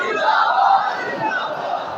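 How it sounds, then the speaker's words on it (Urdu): A large crowd at a religious gathering shouts a chanted response to a slogan in unison, a loud massed roar of voices filling the space. "تے نعرے دا جواب سانو سارے نو دینا چاہیے"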